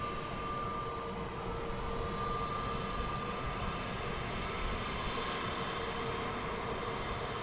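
Aircraft at London Luton Airport, a steady broadband engine roar with a faint whine, sustained and moderately distant, with no voices.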